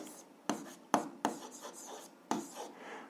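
Pen strokes on paper while algebra notes are written out, with a few sharp taps and short scratchy strokes separated by pauses, close and clear, and no speech.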